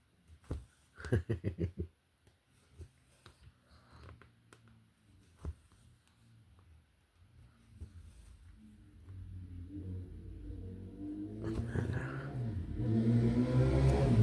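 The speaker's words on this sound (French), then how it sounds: "Oh, la moto." A motorcycle engine rises from a quiet start, growing louder and rumbling steadily as it approaches over the final seconds, after a few brief clatters early on.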